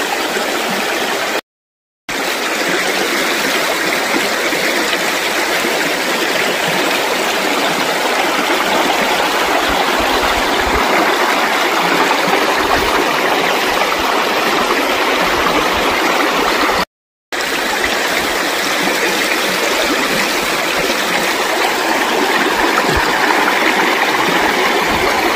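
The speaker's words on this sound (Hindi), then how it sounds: "देखो झरना सुंदर" The Gandi Kundia Nala waterfall in a hilly forest gives a loud, steady rushing roar of falling water, broken by two brief silent gaps.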